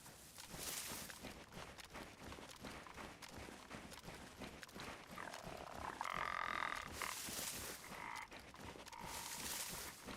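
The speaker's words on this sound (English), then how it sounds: "That sounds like a frog." A frog croaks in DayZ's winter Chernarus, a faint, repeated rhythmic croaking outdoors, with soft ambient noise around it.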